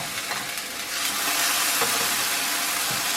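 Eggplant pieces frying in a lightly oiled pan give off a steady close sizzle and hiss, with a few soft stirring scrapes along the way.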